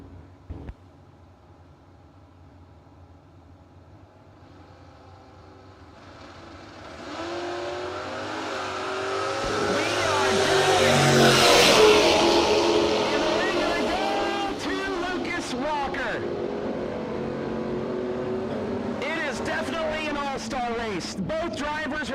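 Drag racing cars, one a Mustang, launching down the racetrack at a no-box event, engine roar building from faint to a loud peak and then staying loud while an announcer talks over it.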